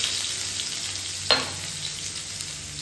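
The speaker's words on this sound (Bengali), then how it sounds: "দেখো সরষের তেল দিয়ে এর মধ্যে কালো জিরে দিয়ে দিয়েছি, এবার এই থেতো করে রাখা রসুনটাকে দিয়ে দেব" Crushed garlic dropped into hot mustard oil with nigella seeds gives a steady low sizzle, with one brief sharp burst of spitting about midway, close and alone with no talk.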